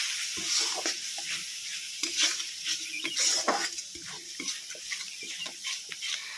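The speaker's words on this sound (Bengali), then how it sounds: "এবার এর মধ্যে যে গুঁড়ো মশলাগুলো, হলুদ গুঁড়ো, জিরে গুঁড়ো, ধনে গুঁড়ো, চিনি আর লঙ্কা গুঁড়ো ভালো করে আমি মিশিয়ে নিচ্ছি" Onion-ginger-garlic paste frying in a pan with ground turmeric, cumin, coriander, chili powder and sugar, stirred with repeated scraping strokes over a soft, steady sizzle.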